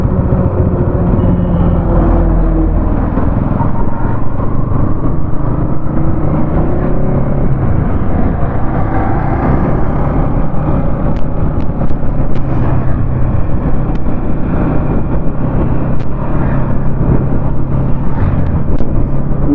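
A Bajaj Pulsar NS 200 motorcycle is ridden at a moderate, careful pace, giving a continuous loud engine hum and road rumble with wind noise. It holds steady for the whole stretch, with no voice over it.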